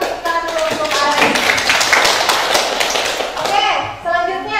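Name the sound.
classroom applause for a student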